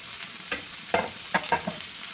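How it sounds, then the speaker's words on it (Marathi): Mixed vegetables (beans, carrot, peanuts and tomato) stir-fried in a pan: soft sizzling broken by several sharp spatula clinks and scrapes in an uneven rhythm, close, with no talking. "आता हे सगळं याच्यामध्ये मिक्स करून घ्यायचं आहे परतून घ्यायचं आहे"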